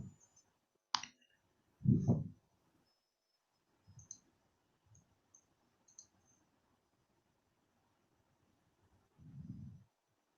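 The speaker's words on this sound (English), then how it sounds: "There is someone typing this." Sparse clicks of typing on a computer keyboard come in scattered bursts separated by long quiet gaps, faint and thin against near silence.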